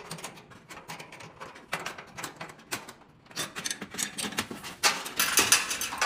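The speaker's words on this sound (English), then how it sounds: "use the spanner and unscrew the nut underneath as well" A spanner works a nut loose on a gas range thermocouple, making a close, irregular run of small metallic clicks and scrapes that grow busier and louder toward the end.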